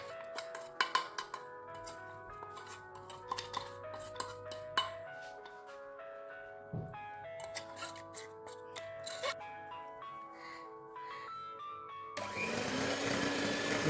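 An electric mixer beats carrot, dates and raisin cake batter after powdered sugar is added. It whirs on steadily and fairly loud for the last second or two, following a stretch of light background music.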